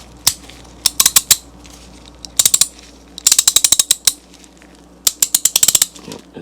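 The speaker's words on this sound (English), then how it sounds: "Yep, it's ratcheting." A vintage SK 3/8-inch drive ratchet clicking in short bursts of rapid sharp ticks, close and loud, with brief pauses between each run of clicks.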